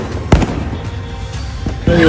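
Fireworks and firecrackers explode in a street clash, with sky shots and loud bombs fired from both sides: a few sharp, loud bangs amid crackling and hiss, with a voice speaking over them.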